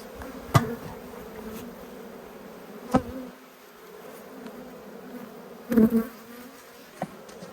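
Agitated honeybees buzz steadily around a lifted hive frame during a late winter inspection, a close, dense drone broken by a few sharp knocks and clatters of hive tools and woodwork.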